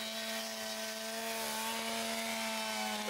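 A chainsaw drones at steady high revs while cutting roof rafters for fire ventilation on a residential roof, its tonal buzz constant and fairly loud with no pauses.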